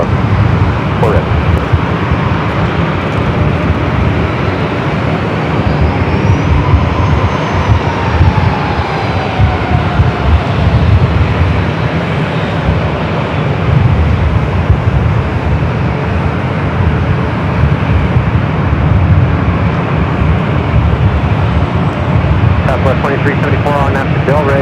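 A Southwest jet rolls for takeoff on runway 24 left at LAX, a loud, steady broadband engine roar that persists throughout, with a faint rising whine partway through.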